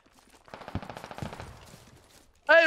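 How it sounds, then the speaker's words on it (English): Gunfire in the military shooter Squad, a fast burst of muffled shots coming from off to one side, fairly distant and fading out, then ending in a sudden loud tonal burst. "A lot of shooting on the right."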